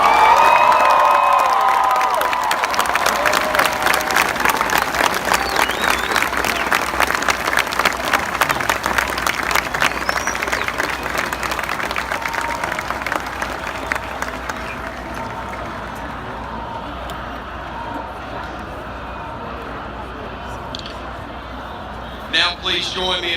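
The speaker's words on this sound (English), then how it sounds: "please join me in a round of applause as we unveil this new mark in Alabama football history" Crowd applauding at the unveiling of an Alabama football national championship marker, sustained clapping and some cheering that swells at first, then gradually thins and fades over about twenty seconds.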